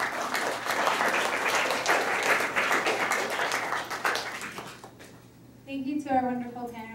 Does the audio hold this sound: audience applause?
yes